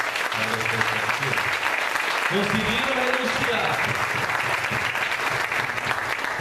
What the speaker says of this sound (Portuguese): Vamos dar uma salva de palmas para essa comunidade.